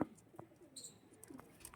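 Soft, low cooing from a Malwai pigeon with a finger-length beak, a couple of brief murmuring calls over a quiet background with faint rustling.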